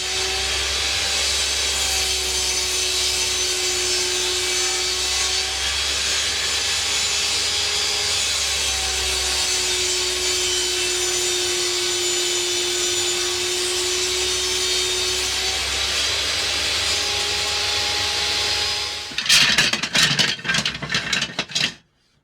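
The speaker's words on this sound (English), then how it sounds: "The blade is set to 15 degrees and I can achieve this angle on both sides of the strips by flipping the board over as I go." Power saw with its blade tilted to 15 degrees ripping bevels along wooden strips, a steady loud whine that rises and falls slightly under load, ending in a burst of rattling knocks as the cut finishes and the saw spins down.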